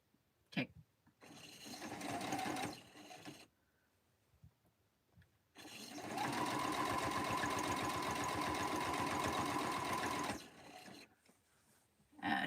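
A home sewing machine stitching a donation quilt runs in two bursts, a short one of a second or so and a longer steady run of about five seconds, with quiet gaps and soft handling noises between.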